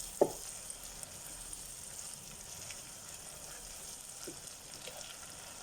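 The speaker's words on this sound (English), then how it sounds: "So we continue to sweat these down. I love the smell of sauteing onions." Onions sweating down in a pan for a kidney bean and potato curry give a soft, steady sizzle that stays faint throughout, with a brief clink near the start.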